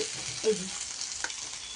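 Steady oily sizzle of potatoes frying in a pan, with a brief clink or stir partway through; no talking.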